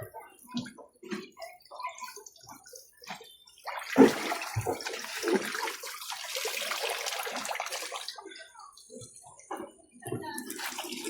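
Shower water runs and splashes while two small children are bathed at home, a steady hiss rising and falling under frequent child and adult chatter, with occasional bumps and drips nearby.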